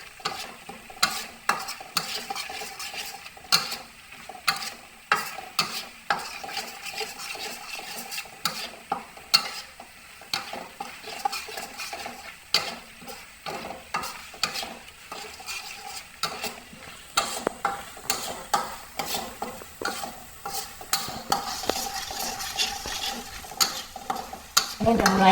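Spice paste for Bangka-style fish curry sizzles in hot oil in a pan while a utensil stirs and scrapes it continuously, a busy crackling texture with frequent clacks against the pan.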